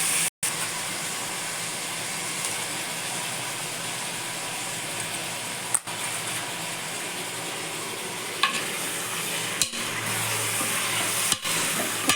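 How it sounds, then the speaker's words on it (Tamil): Chicken sautéing in oil in a pan for a home chicken gravy, a steady sizzling hiss with stirring scrapes that runs the whole time, plus a few brief clicks and knocks. "மற்ற சிக்கனை போட்டு எண்ணெய் நல்லா வதக்கி வச்சுருக்கோம்"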